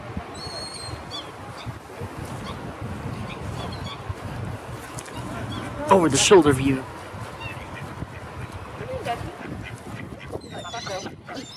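Ducks and geese honk and quack at a Tampa lake, with a louder burst of calls in the middle of a noisy outdoor scene while people talk throughout.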